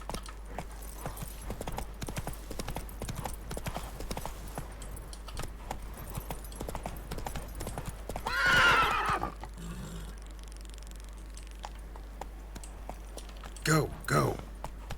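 Hoofbeats of Geralt's horse Roach pound steadily in The Witcher 3, a clip-clop rhythm running throughout with a whinny breaking in near the end, mixed with game sounds and faint background voices.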